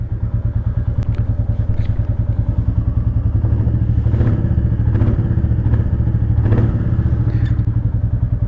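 A Royal Enfield Classic 350cc motorcycle engine thumps loudly and steadily nearby, its rapid single-cylinder beat running throughout with a few clattering knocks.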